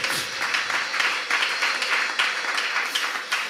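A church congregation at a Passover service applauds, steady dense clapping from many hands filling the room, fairly loud and continuous with no voices on top.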